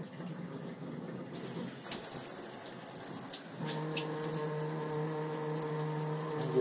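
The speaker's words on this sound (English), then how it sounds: "I turn on the shower." A home shower turned on, water rushing from the tap as the plumbing sets up a steady droning hum and vibration in the pipes, close and continuous.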